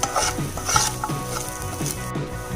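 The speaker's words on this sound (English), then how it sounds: "I'm going to mix it with the onion until the raw smell of the ginger garlic paste goes away" Ginger garlic paste is stirred into frying onions with a spoon, making rhythmic scraping strokes over a steady close sizzle, with no talking.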